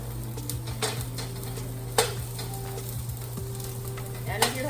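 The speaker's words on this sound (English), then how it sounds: "I'm gonna turn my sausage right now, make sure they don't burn." Sausages sizzle in a frying pan with a steady crackle over a low hum, while a few sharp clicks and scrapes mark them being turned, close and moderately loud, with no voices.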